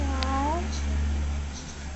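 A pet cat named Snooker gives one clear, close meow with a rising then falling pitch, followed by quieter room noise and faint murmuring.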